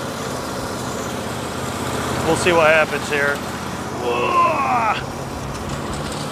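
A lawn mower engine is throttled down to a slow pace and hums steadily at low speed underneath someone talking.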